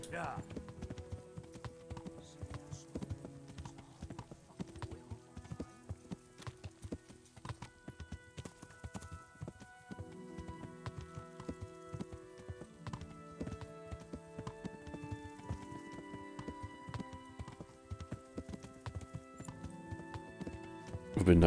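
Steady clip-clopping of horse hooves in the video game Kingdom Come: Deliverance runs throughout over a bed of background music, with talk mixed in on and off.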